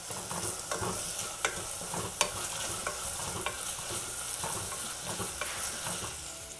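Green chillies and onions sauté in a hot pan for a prawn biryani, a constant soft sizzle broken by regular scraping strokes of a stirring spoon.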